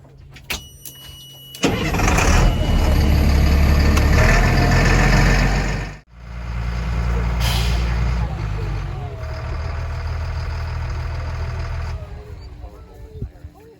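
An FMTV military truck's engine runs steadily and loudly to refill its air tanks, a deep continuous rumble that cuts off briefly and then resumes for a long stretch, with faint voices.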